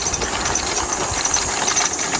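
The motor of a used electric bicycle in Japan runs on its own with a steady, dense, close whirring drone and slight rhythmic fluttering, with no voices.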